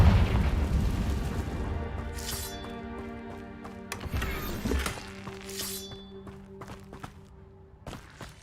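Bombarda and Confringo spells blasting in Hogwarts Legacy, a deep booming explosion that rumbles and decays, followed by further sharp bursts and ringing tonal game effects.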